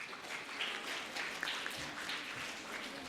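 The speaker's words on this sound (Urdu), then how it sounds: "آپ سب کی بھرپور تالیوں میں" Audience applause at a children's assembly event in Rawalpindi/Islamabad: soft, steady clapping from a hall full of people, fairly distant and even throughout.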